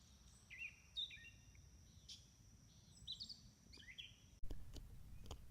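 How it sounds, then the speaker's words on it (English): Several birds sing and chirp in short scattered phrases beside a swampy stretch of the Mullica River, fairly faint against a low, steady outdoor background with no voices. "Love the birds singing in the background."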